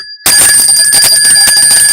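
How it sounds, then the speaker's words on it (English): A bell rung on a weather podcast sounds loudly and continuously, with sustained bright ringing tones after a brief silent start and repeated clangs throughout. "That was a lame bell ring. Ring it properly."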